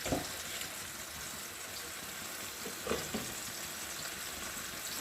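Cabbage frying in a pan with a steady, moderate sizzle, joined by a few brief scraping stirs of a utensil partway through; no voices.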